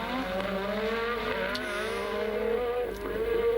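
Formula 1 cars of the 1986 season racing at the Spanish Grand Prix at Jerez, a loud continuous engine drone with rising and falling pitch as cars pass close by, under commentary.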